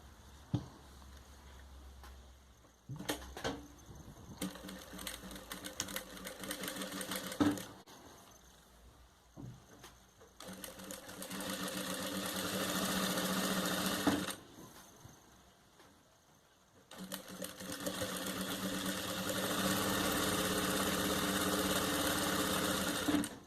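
An electric sewing machine stitches the long seam of a Festa Junina party apron, humming and rattling in steady runs of several seconds separated by brief pauses, close and fairly quiet.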